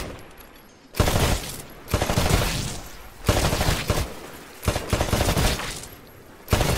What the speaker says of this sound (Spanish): Destruya todos los objetivos de la galería de tiro.